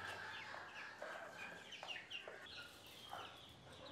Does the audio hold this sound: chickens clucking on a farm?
yes